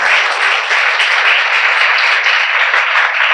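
A church congregation at a sermon claps their hands together in a dense, continuous, loud burst of applause that holds steady from start to finish, with no voices heard.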